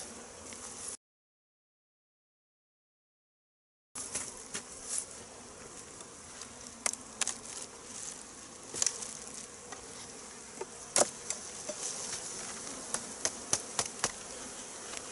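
Steady, dense buzzing of many honey bees close by at a hive in autumn, with brief sharper zips as individual bees fly past; a short gap of silence near the start.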